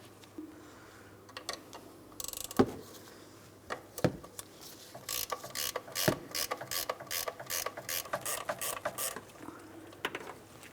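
A ratchet loosening the two 14mm transmission mount nuts on a 2004–2008 Pontiac Grand Prix, with a fast train of close clicks in quick bursts after a few single knocks.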